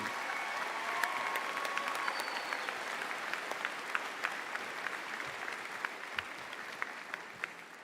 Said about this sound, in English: Graduates, would you please join me in a round of applause